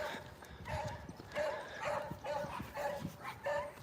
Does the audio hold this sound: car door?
no